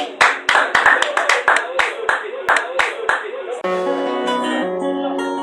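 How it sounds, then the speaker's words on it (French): A church congregation claps in sharp, rhythmic beats during a French-language worship service, about a dozen distinct claps. The claps give way abruptly to sustained music with a voice. "Applaudissons."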